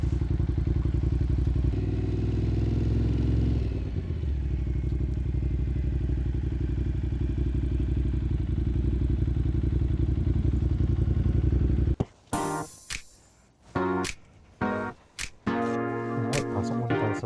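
Motorcycle engine running steadily and loud while riding for about twelve seconds, then cutting off, followed by scattered clatter and thumps.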